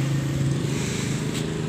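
A Kawasaki Rouser 135 motorcycle engine runs with a steady close idle drone, an even rumble throughout without clear revving.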